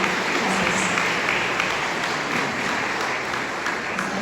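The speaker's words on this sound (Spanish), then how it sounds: "Solamente queremos darles un aplauso" Church congregation applauding to welcome first-time visitors, a steady, dense wash of clapping filling the room throughout with no pauses.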